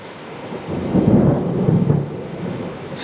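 A deep rumble of thunder from a nearby lightning strike rolls through steady rain, swelling and fading over a few seconds, loud but not sharply cracking.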